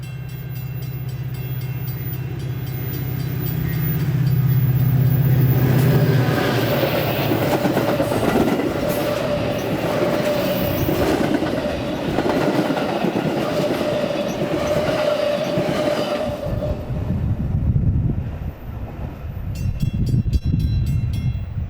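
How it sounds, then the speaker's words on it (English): An outbound Metra train rushes through a station without stopping. A horn blast opens a loud, sustained roar with rhythmic clickety-clack of wheels on rail joints, which fades away as the cars pass. "The next outbound train approaching your station will not stop."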